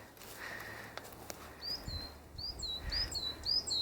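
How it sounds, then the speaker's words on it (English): Small birds in larch trees give rapid, high, bright chirps and twitters that come in repeated short phrases, moderately near and clear above a faint hushing background. "There's some birds up in the larch there."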